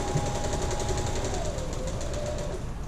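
Sewing machine stitching paper-pieced quilt pieces, a continuous rapid mechanical hum with fast regular pulsing, close and steady throughout.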